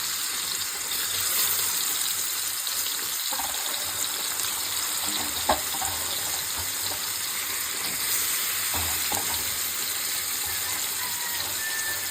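Pomfret fish frying in hot oil, a continuous hiss and crackle running steadily throughout at moderate loudness, with a few faint clicks and knocks and no talking.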